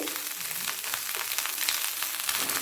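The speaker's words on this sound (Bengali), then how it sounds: "একে একে দিয়ে দিলাম শিম গাজর এক টুকরো পেঁপে" Green beans, carrot and a piece of papaya frying in oil in a pan for a rohu fish curry with winter vegetables, giving a steady, close crackling sizzle with no talking.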